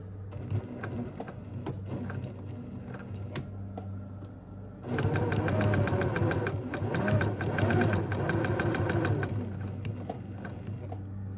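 A sewing machine stitches a seam on a fabric mask, starting with a quieter, intermittent whir and then running steadily and loudly in a fast, continuous mechanical rattle before easing off near the end.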